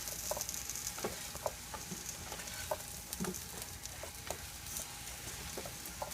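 Veggie fritters fry quietly in a pan, a soft continuous sizzle dotted with small crackles and pops throughout, alone with no voices.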